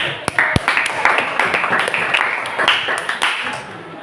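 Classroom applause for a student group at a junior high school in Surabaya, a dense crackle of many hands clapping steadily throughout, with voices mixed in underneath.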